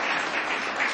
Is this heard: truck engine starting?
no